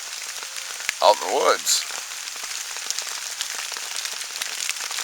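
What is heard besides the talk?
rain falling in the woods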